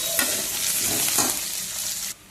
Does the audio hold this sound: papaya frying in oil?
yes